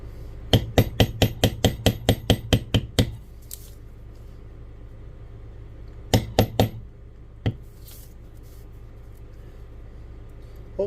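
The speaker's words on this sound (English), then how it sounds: "This is a beveling tool." Leather beveling tool, a Craft Tool B802, struck repeatedly against a leather knife sheath: a rapid run of about ten sharp close taps, a pause, then three more taps and a single final tap.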